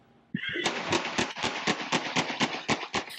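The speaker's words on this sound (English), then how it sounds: "The fatal gunfire killing 33-year-old Savannah Parker on January 30th was captured by a Ring doorbell camera." A Ring doorbell camera outside a house in White Settlement, Texas, records a fatal shooting: a rapid string of about a dozen sharp gunshots in quick succession, loud and distant-sounding, with no talking.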